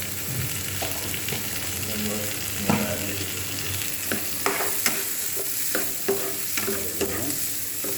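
Onions and spices sautéing in a hot pan with turmeric powder added for dal soup, a steady soft sizzle broken by repeated scraping and clinking stirs of a spoon, close up with no talking.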